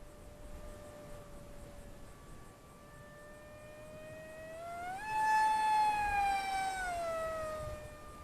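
Eachine Mobula Wing FW650, a 650mm RC flying wing on a 3S LiPo, flies a full-throttle pass, its electric motor whining in a steady tone that climbs sharply in pitch, holds loud, then eases back, with no talk.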